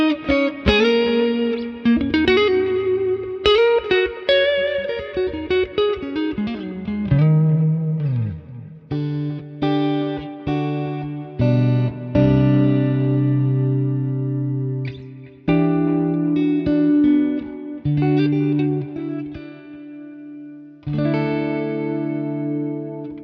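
A clean electric guitar through a Quad Cortex plays chords and single notes, shimmering with a chorus effect and washing into a lush, lingering plate reverb.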